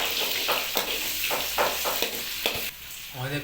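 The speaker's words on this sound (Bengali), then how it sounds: "পেঁয়াজটাকে হালকা নেড়ে নিতে হবে অয়েলের মধ্যে।" Onions stirred and fried in hot oil for a chicken kasha, a steady close sizzle broken by repeated scraping stirs at a loose, uneven rhythm, with no talking.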